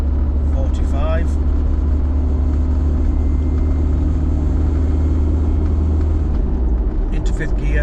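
A Land Rover Discovery 1 cruises on a road at around 40 to 45 mph, a steady loud cabin drone with low tyre rumble and vibration; a voice speaks briefly near the start.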